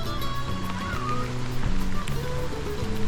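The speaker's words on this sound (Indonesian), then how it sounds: "Terselamatkan sampai warung, hujannya tambah deras." Heavy rain pours down steadily at a roadside food stall on a camping hill near Bogor, a dense continuous hiss of drops drumming on surfaces with a low steady rumble underneath.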